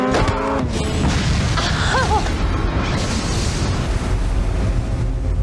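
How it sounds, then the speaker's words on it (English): An explosion in the action film Mission: Impossible 2, a loud sustained booming roar with dense rumble filling the whole stretch, with a brief voice cry in the middle. "Well, he's gonna explode it."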